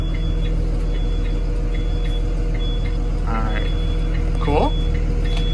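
A 2021 Thomas EFX school bus reversing, its backup alarm ticking in a steady high-pitched pattern over a loud idling diesel engine rumble, with someone briefly speaking nearby.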